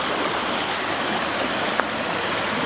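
A river beside a rural path leading to an abandoned chapel rushes with a steady, fairly close broadband flow, with one brief sharp click partway through.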